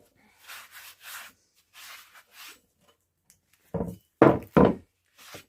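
A cloth or hand wipes dirt off a restored axe head that was cleaned of rust in vinegar. It makes several soft rubbing strokes, then three louder, fuller scrubbing passes close by, with short pauses between them.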